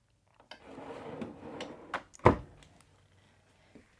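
A large storage drawer beneath the kitchen counter of an Outdoors RV Back Country 28DBS travel trailer slides open, with brief rolling rumble and a sharp thunk as it stops, close and alone in a quiet interior.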